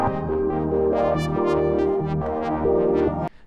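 A layered Serum synth patch built from three oscillators running through bus effects plays a steady sustained chord with shifting melodic notes, loud and full, then cuts off abruptly near the end.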